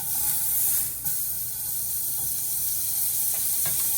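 Slices of bread soaked for French toast fry in hot grease in a pan, giving a steady, close sizzle and crackle with faint scraping now and then, and no voices.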